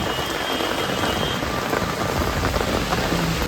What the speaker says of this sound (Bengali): খুব জোরে বৃষ্টি এসছে